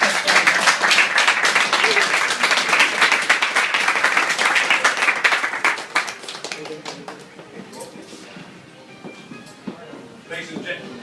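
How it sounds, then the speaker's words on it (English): A party audience gives a standing ovation with dense, loud clapping for about six seconds, then the applause thins into scattered claps and shuffling as the room settles. "can we have a generous round of applause but a standing ovation for Her Majesty's Lord Lieutenant David Moody."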